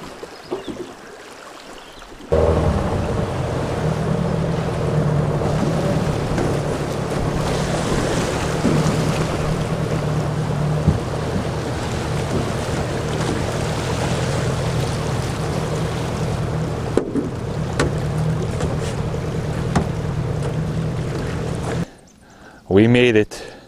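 Small outboard-powered boat crosses a lake, the motor droning steadily under heavy wind buffeting and splashing water for about twenty seconds, then cutting out before a brief closing burst of noise.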